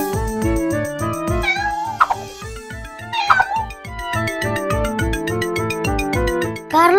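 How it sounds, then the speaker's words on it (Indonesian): A small kitten in an animated cartoon meows repeatedly in high, thin cries, tangled in river plants, over a busy background of plucked, rhythmic music. "Itu suara kucing kecil."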